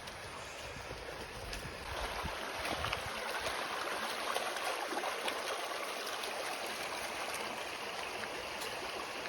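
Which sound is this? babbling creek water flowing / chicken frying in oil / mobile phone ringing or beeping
babbling creek water flowing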